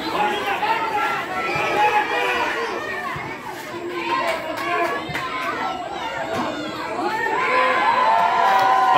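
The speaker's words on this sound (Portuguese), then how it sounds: "a torcida vai ao delírio" Spectators at an under-11 youth football match cheer and shout together, a lively, sustained mix of young and adult voices swelling toward the end, with chatter throughout.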